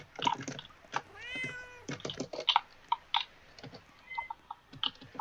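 Several short cat meows from a Roblox game come in quick succession, with clicky, tapping noises in between, the cries bright and slightly synthetic.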